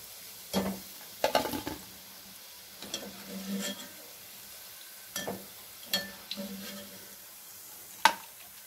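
Vegetable manchurian balls deep-fry in bubbling oil in a pan, giving a soft, steady sizzle broken by scattered pops and sharper crackles.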